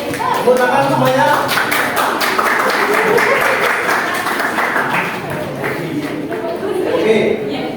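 Applause from a classroom audience closing a presentation in a history teacher-training class at Universitas Sebelas Maret: a dense, steady wash of clapping that runs the whole time, mixed with voices talking over it.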